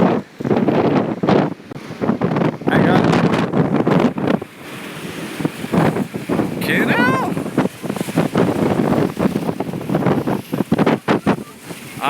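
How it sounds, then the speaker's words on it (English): Strong wind gusts buffeting a microphone on a city street in Ikebukuro, Japan, loud rushing roars that rise and drop in bursts while someone talks over them at close range. "that's windy"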